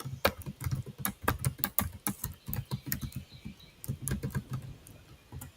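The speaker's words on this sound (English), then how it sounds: "Let me type that in for you." Rapid, irregular keystrokes on a computer keyboard as a web address is typed, close and clear with short pauses between bursts, no voices.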